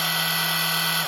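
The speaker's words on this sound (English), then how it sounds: "And the last one is just a drill setting," A hammer drill runs on its standard drill setting with a continuous loud motor whine and a steady hum, close by, then begins to wind down at the end.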